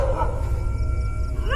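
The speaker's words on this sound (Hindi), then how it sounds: "अंदर से कुत्ते की भौंकने की आवाज आने लगती है।" Cartoon dogs barking and howling from inside a building, short wavering yelps and howls at moderate volume over a low background rumble.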